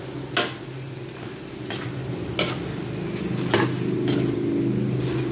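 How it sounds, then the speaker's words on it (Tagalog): Fish sauce and chicken cubes sautéing in a pan for native chicken tinola give a steady low sizzle, with a few sharp utensil clinks and stirring scrapes near the start and in the middle. "Gisa-gisa natin para lumasa yung patis at saka chicken cubes"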